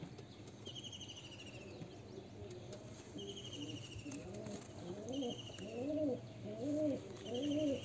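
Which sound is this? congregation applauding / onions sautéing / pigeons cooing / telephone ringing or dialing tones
pigeons cooing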